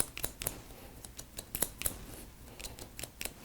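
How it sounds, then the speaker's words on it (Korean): Barber's scissors snip through hair during a long Korean-style short haircut, giving a rapid series of crisp close-up metallic snips in an irregular rhythm, with no talking. "그래서 가위로 이렇게."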